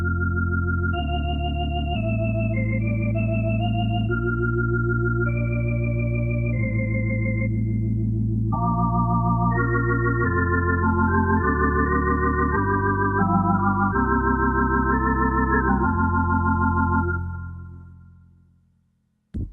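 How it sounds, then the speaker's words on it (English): A gentle Lowrey organ plays sustained chords and a soft melody with steady, full tone for about seventeen seconds before fading out, alone and without voices. "So that's just a nice, pretty Lowry organ sound."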